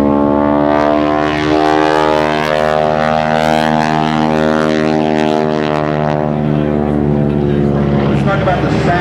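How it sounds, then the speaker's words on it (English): A wingwalking stunt airplane at a 2008 New England airshow climbs and dives, its propeller engine droning loudly with a steady harmonic roar that shifts in pitch as it passes, under an announcer's commentary. "Talk about the sounds of that airplane."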